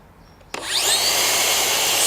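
A Makita dustless circular saw starts with a sharp click and spins up to a steady, loud, high-pitched whine that holds evenly without talk.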